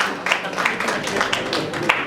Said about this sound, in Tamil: கரகோஷங்கள் மூலமாக தங்களுடைய வாழ்த்துக்களை தெரிவிக்கலாம்